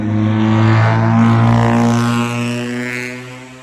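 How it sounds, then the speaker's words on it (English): A loud car passes close by on a road near a historic tavern in Burlington, Kentucky, its engine roar swelling steadily and then fading slowly, with no talk over it. "that's a loud car"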